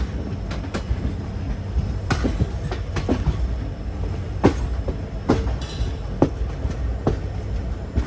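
The Jammu Tawi Express runs on rails toward Jammu via Amritsar and Pathankot, heard from inside with a steady rumble and regular sharp clickety-clack wheel beats over rail joints.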